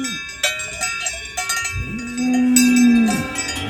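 Swiss cows at a cow parade pass with cowbells clanking and ringing up close, and one cow lets out a long low moo near the end.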